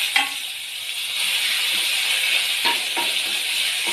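Onion paste sizzles loudly as it drops into hot oil with a dried chili and bay leaves, a bright continuous frying hiss with a few clinks of a utensil.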